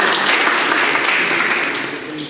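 Steady applause for a colleague during a rhetoric and negotiation seminar, a continuous bright clapping wash for a couple of seconds that tapers slightly toward the end.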